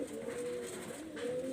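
A Royal Teddy pigeon coos close by in low, drawn-out murmuring phrases, two soft coos with a brief pause between them.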